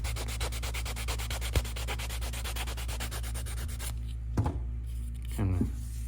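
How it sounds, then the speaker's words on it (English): Rapid, rhythmic scraping strokes of a sanding block rub back and forth on plastic tubing of a life-size Proton Pack prop for about four seconds, then stop, leaving a few knocks and quiet handling sounds. "We can hit that with a sanding block too if we want"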